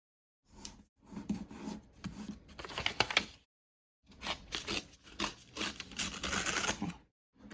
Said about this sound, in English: I'm just going to trim the one at the bottom.